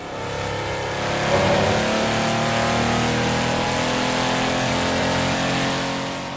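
An Audi race car in Assetto Corsa holds a steady, high-revving engine note that swells slightly and then sustains, loud and close, with no talking.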